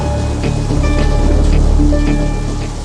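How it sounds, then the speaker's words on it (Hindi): Steady rain falls in a continuous dense hiss, fairly loud and close, with no talking over it. "ऐसी ही बारिश हो रही थी।"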